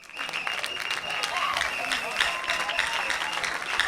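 Applause fills a hall during a televised quarter-final talent show, a dense clapping wash with faint voices and a cheer or two mixed in, holding steady for the whole stretch.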